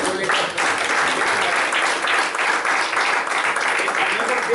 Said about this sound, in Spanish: Y Mero Mero, un aplauso por favor para el Mero Mero de Plaza Pública.